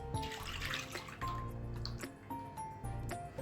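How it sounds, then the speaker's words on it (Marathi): Strained chutney poured into a kadai wok, giving a wet, splashing pour with drips and soft squishes, moderately close and quiet, with faint intermittent tones in the background. "आता आपण बनवलेली चटणी एका कढईमध्ये घालून घेऊयात"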